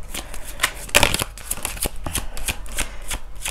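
Tarot cards being shuffled by hand, a steady run of crisp riffling flicks and soft slaps close up, with no talking.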